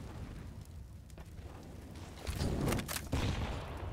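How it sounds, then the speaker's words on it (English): Grenades burst in a Counter-Strike match on the Vertigo map, thrown into the B lobby position: a faint rumbling background gives way to a cluster of loud overlapping blasts and crackling near the end. "Well, nades going into this B lobby position."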